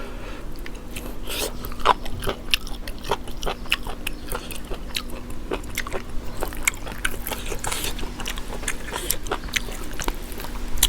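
Close, steady chewing and biting on a Thai beef jaew dish, wet crunching and smacking bites repeating irregularly throughout, with a faint constant hum in the background and no talking.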